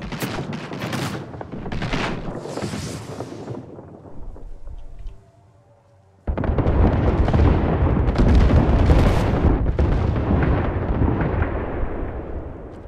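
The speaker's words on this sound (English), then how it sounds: "we've got an airstrike coming" An airstrike in the video game Apex Legends sets off heavy rumbling blasts, then goes briefly quiet before a loud, sustained barrage of explosions.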